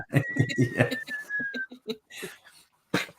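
A voice imitates the whistle of a Nerf whistle on an airsoft pea grenade, a thin sustained whistling tone falling slightly in pitch among breathy vocal bursts.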